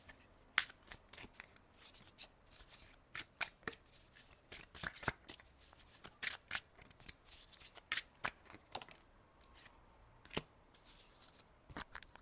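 A tarot card deck being shuffled by hand: a steady series of quick, crisp card riffles and slaps, fairly quiet and close, with no voices.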